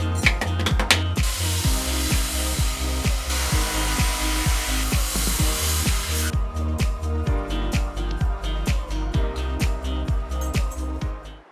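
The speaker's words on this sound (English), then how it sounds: "I want to machine the other side of this part." A CNC mill machines the second side of an aluminum carabiner, the cutter whining steadily with a regular, rapid chatter of interrupted cuts. A loud hissing burst, likely coolant or air blast, covers the first half before fading out.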